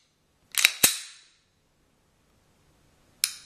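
A handgun trigger clicking during dry fire, with a quick double click followed by a sharper snap close by, then a pause and one more crisp click near the end, alone in a quiet room.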